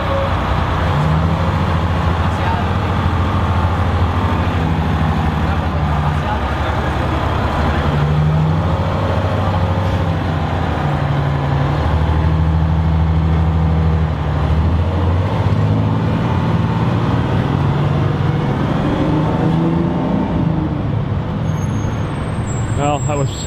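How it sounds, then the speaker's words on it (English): A Detroit Diesel powered transit bus pulls away on a busy city street, its engine droning loud and close with a deep rising and falling pitch as it gains speed amid surrounding traffic noise. "get a bit of a Detroit Diesel powered takeoff"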